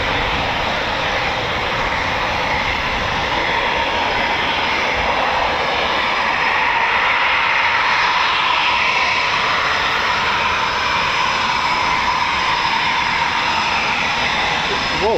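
A Eurofighter Typhoon FGR4 roars at RAF Coningsby, a loud steady jet engine rumble and hiss holding constant throughout without pause.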